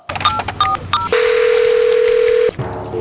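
A telephone is dialed to reach a control room: a quick run of three touch-tone key beeps, then a long, steady dial tone of about a second and a half, followed by a brief click.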